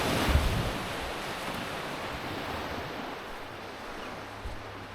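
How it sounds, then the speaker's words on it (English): Surf washing onto Etty Bay Beach in tropical far north Queensland, a steady broadband rush of breaking waves mixed with wind noise on the microphone, continuous and fairly loud with no talking. "we're out here on Etty Bay Beach"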